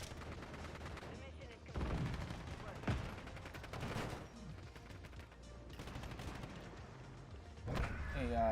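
Rapid automatic gunfire and bursts from a Call of Duty match, dense and continuous with heavier booms, while a voice talks over the shooting.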